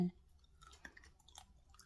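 Crispy fried pumpkin chips with toasted sesame are chewed close up, giving a few faint, brittle crunches over a quiet background.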